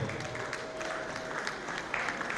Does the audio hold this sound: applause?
yes